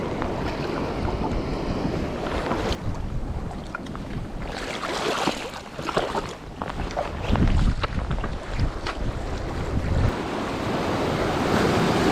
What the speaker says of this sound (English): It's got some white water, some moving water around rocks.